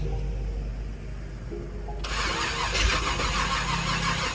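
A 1984 Corvette with a 357 small-block V8 cranks over without fuel, a steady close mechanical churning of the starter that grows harsher and brighter partway through, with no voice.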